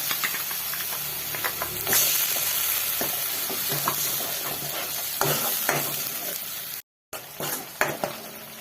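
Ground masala roasts in oil with garlic for a fish curry, frying with a steady close sizzle and hiss, broken by spoon scrapes and clinks against the pan.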